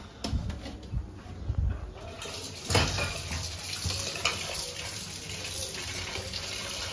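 Drumstick leaves rinsed under a running tap, with a steady close stream of water and occasional louder splashes and rustling as the leaves are handled.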